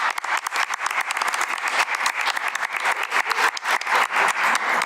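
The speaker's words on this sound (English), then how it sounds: "I want to offer a round of applause for our school board members" Round of applause at a school board meeting, a loud, close burst of many hands clapping with distinct individual claps standing out, sustained evenly throughout.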